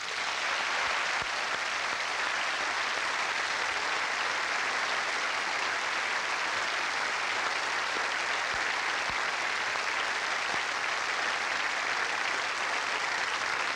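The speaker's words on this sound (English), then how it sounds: "Ladies and gentlemen, let's applaud these British sportsmen and women and many others who became world champions in 1985." A television studio audience applauding British world champion sportspeople of 1985, a long, even roar of clapping from a large crowd that stays constant and somewhat distant throughout, with no voices on top.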